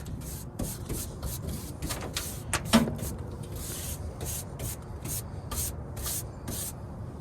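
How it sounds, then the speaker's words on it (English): A coil brush scrubs parts of a Carrier furnace during a no-heat service call, making a series of short, close, bristly swishing bursts in irregular rhythm with a small clunk partway through. "What are you using, a coil brush?"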